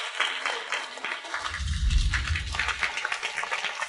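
A wedding crowd bursts into loud, sustained applause welcoming the bride and groom, clapping densely throughout, with some cheering swelling in the middle.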